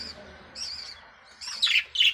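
A breeding pair of Australian parrots gives a few short, bright chirping squawks in quick bursts, getting louder toward the end, with no speech over them.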